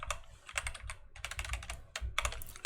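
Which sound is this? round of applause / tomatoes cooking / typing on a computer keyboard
typing on a computer keyboard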